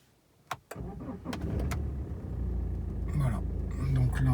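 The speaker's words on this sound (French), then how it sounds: "donc là je vais rallumer la voiture" A BMW 1 Series E87 engine cranks and fires up after two sharp clicks, then settles into a steady close idle that swells slightly, with a few brief higher noises near the end.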